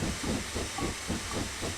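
A steam locomotive in Railworks 3 on the Elsecar Heritage Railway chuffs steadily, short bursts of exhaust steam pulsing evenly over a continuous hiss.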